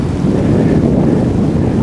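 Fierce mountain wind roars at high altitude in Kyrgyzstan as a blizzard approaches a saddle, a loud, constant rushing blast with heavy low buffeting on the microphone and no voices.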